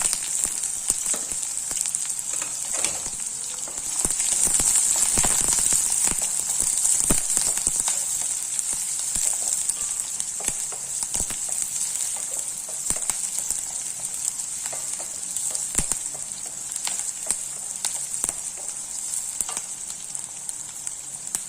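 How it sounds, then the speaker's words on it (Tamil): Chopped onion and crushed garlic sauté in a hot pan, giving a steady, bright sizzle with scattered clicks and pops from stirring, close and loud throughout with no talking. "ஒரு மீடியம் சைஸ் வெங்காயம் நச்சு வச்சுருக்கேன், சேர்த்துடலாம்."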